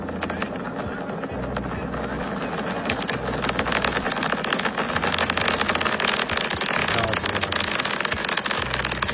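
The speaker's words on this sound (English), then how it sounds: "I paid very close attention to when this rocket breaks out of the bubble" Firework rocket breaking out of a bubble, a dense crackling, popping burst that fills the whole stretch at steady loudness, with continuous sharp sputtering throughout.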